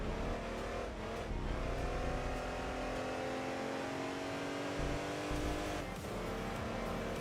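Race car engines roar continuously in Enthusia Professional Racing, with 280-horsepower cars battling a BMW, revving and shifting steadily up close with no talk over them.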